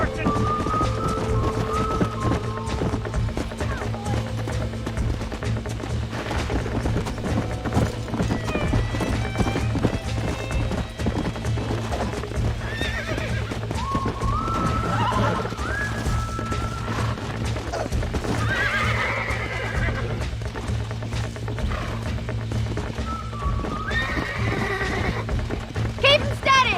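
Horses gallop with rapid clip-clop hoofbeats in the video game Red Dead Redemption, with repeated neighs and whinnies rising over the running, and voices talking throughout.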